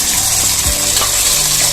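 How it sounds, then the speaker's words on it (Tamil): Small onions and garlic sautéing in a pan for a medicinal kuzhambu, a steady close sizzle with a brief stirring scrape. "இந்த வெங்காயம் பூண்டு ரெண்டையும் நல்லா வதக்கிக்கோங்க."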